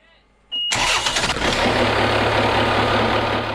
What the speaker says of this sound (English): We just fired it up to check it with the hose off here